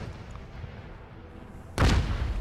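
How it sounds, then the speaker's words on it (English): A cannon fires in a naval battle video game, a single loud boom that breaks over steady background noise and rumbles on for a moment. "We just heard a cannon fire."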